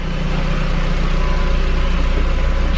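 A car's engine idles at a steady low rumble after a repair, continuous and close, with a loud, unchanging drone and no voices.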